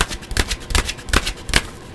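Tarot cards being shuffled by hand, four or five quick riffling bursts in a loose rhythm, close and fairly soft, with no talk.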